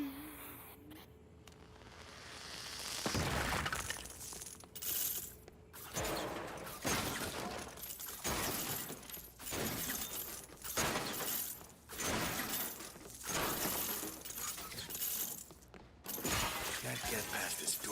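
A spray explosive goes off in the Lego Batman: Legacy of the Dark Knight game. A burst of shattering Lego pieces and mechanical clatter follows, loud and repeated in waves over a busy game soundtrack, with a voice speaking briefly.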